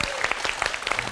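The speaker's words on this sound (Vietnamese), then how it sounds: "một tràng vỗ tay để 90 giây bắt đầu" A studio audience at a Vietnamese word game show breaks into a brief, dense burst of clapping, close and lively.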